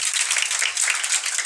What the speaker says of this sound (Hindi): सामने से ताली ताली होते रहे